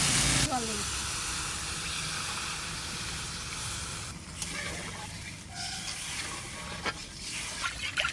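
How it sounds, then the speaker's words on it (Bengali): Water poured into hot fried spice paste for a fish curry of large sea chala fish, giving a sudden loud steady hiss and sizzle that continues throughout with small bubbling pops, close up and without speech. "মশলা কষানো হয়ে গেছে এবার জল দেবো"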